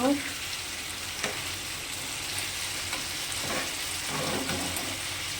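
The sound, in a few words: chicken frying in a pan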